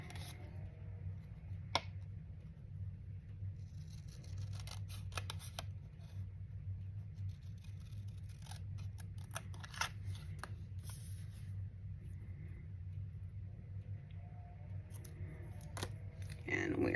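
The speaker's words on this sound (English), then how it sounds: "I'm going to cut out the word celebrate." Scissors snip faintly in scattered small cuts as a word is cut out of paper for a Christmas junk journal, under a low steady background hum with occasional rustling.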